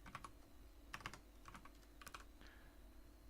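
Keys clatter on a computer keyboard in short bursts of close, crisp taps separated by brief pauses, typed while writing Lua code for a Love2D game over a steady low hum.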